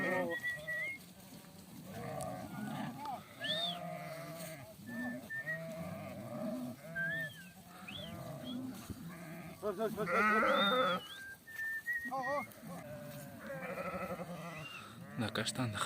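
Chestnut-colored lambs bleating repeatedly in a farm pen, several close, wavering cries overlapping, with people talking in between and underneath.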